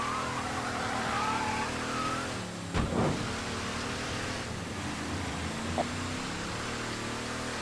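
Car engine in the Mafia 3 video game, a steady mid-level drone that swells slightly, with a sharp knock near the middle and a brief thump later, no talking.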